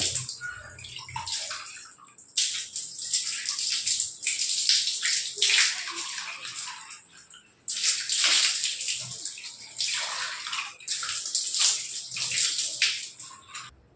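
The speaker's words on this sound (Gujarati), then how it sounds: "હવે જો આ રીતના આપણે પાણીથી ધોઈ નાખશું" Water splashes over a steel tap being rinsed clean after an acid treatment, running in loud, close gushing bursts that stop briefly between pours, with steady hissing spray and light sloshing.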